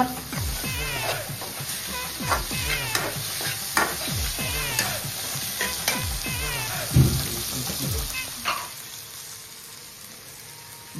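Green chilies frying in a pan while being stirred, a continuous close sizzle with repeated scraping strokes and clinks of the spoon, a sharper knock partway through, fading toward the end.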